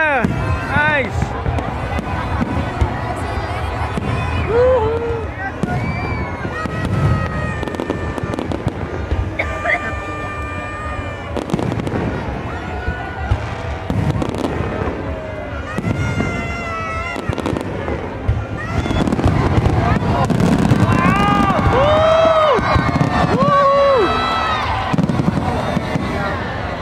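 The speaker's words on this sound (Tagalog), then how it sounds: "natapos na yung fireworks display" A New Year's Eve fireworks display at SM Mall of Asia crackles and booms continuously, with dense bursts and pops over a cheering crowd, and people talking and shouting nearby throughout.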